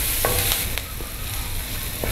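Onion, garlic and calabresa sausage sautéing together in a pan, giving a steady close sizzle with a few light stirring clicks scattered through; no voices.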